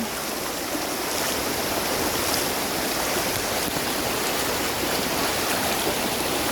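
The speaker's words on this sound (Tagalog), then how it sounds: "Ang lalakas ng alon!" Strong sea waves surging at a hidden beach in Oriental Mindoro, a steady, loud broadband rush of churning surf that fills the whole stretch without break, close by, with no voices.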